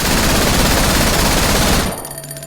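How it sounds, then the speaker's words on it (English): A FAMAS assault rifle in the horror video game Cry of Fear fires a loud, sustained automatic burst for almost two seconds. It cuts off abruptly, leaving a brief ringing tail. "That's the FAMAS."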